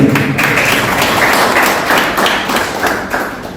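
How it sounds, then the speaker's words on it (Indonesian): A small group claps for a friend in an indoor gathering, a steady patter of clapping lasting several seconds, fairly loud and close, with no voices over it. "Tepuk tangan buat teman kita."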